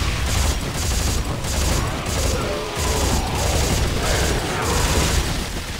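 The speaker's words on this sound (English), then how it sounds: "My rivet chain gun sets people on fire, and my assault rifle just sort of sets them on acid" A rivet chain gun fires in Dead Space 3, a rapid stream of mechanical shots in loud, pulsing bursts with brief gaps, close and harsh throughout.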